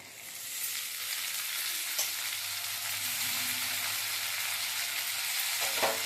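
Chopped tomato frying in a pan for a potato curry, a steady close sizzle with occasional stirring scrapes and a low hum underneath, no talk.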